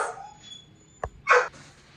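Puppies giving a short sharp yip followed by a brief higher bark, close by in a quiet indoor room, two quick sounds within a couple of seconds.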